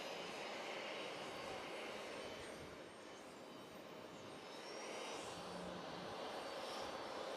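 Airliner on final approach at JFK airport, a distant, faint, steady jet roar with a broad hiss that swells slightly, heard alone with no talk.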